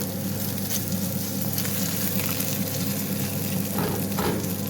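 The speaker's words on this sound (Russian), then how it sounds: "Я с утречка на завтрак решила жарить яичницу с беконом." Eggs and bacon frying in a pan for breakfast, a close and steady crackling sizzle that keeps going without a break, with faint clinks and stirring noises toward the end.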